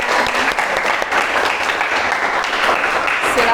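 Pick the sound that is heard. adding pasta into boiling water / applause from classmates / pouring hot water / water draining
applause from classmates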